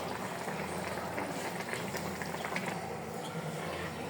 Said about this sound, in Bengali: এই তো এখানে মাছ টমেটো দিয়ে সুন্দর করে রান্না বসিয়ে দিয়েছি।